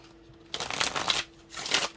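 Oracle card deck shuffled by hand in two bursts of crisp, riffling card noise with a short pause between, close and fairly loud, with no talking.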